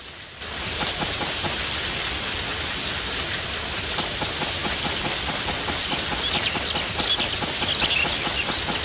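Steady rain falling in the farming video game Harvest Moon: A Wonderful Life, a dense, continuous patter on surfaces, loud and even throughout with no pauses.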